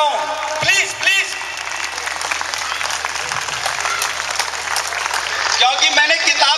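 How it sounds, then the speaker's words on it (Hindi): An audience at a motivational speech on parenting claps steadily, with sustained applause filling the clip and a voice briefly audible over it at the start and end. "एक बार और ताली बजाइए।"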